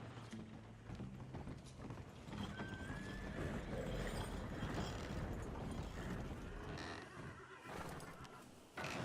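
Horses in Red Dead Redemption 2 clip-clop along with a neigh, joined by creaking wagon mechanisms, fairly faint and steady throughout the passage.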